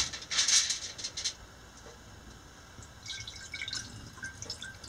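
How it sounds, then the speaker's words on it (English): Liquid from a loon egg dissection is poured off into a jar, giving a short burst of close dripping and trickling at the start, then quieter scattered drips afterward. "I'm going to pour this part off into the jar."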